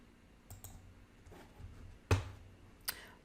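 A few soft computer mouse clicks while signing in on a college course website, sparse and close, with one sharper click standing out in a quiet room.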